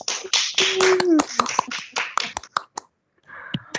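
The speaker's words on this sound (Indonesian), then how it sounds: "Kita kasih tepuk tangan dulu dong buat Mas Dedi." A small audience on an Indonesian talk show claps for a guest: a burst of quick hand claps mixed with people talking, then a short pause and a few more claps.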